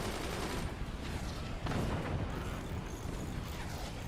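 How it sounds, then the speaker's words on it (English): Cannon volley fire in the strategy game Forts: a dense, continuous barrage of overlapping booms and blasts, loud and steady throughout, with no talk. "As the next volley of cannons come through, the defense is penetrated."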